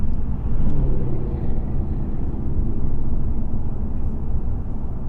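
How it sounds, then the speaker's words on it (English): A few cars pass by outside a 2023 Lexus RC 350 F Sport AWD on a smooth road, heard from the cabin as a steady low road rumble with a gentle swell as they go by. "here comes a few cars"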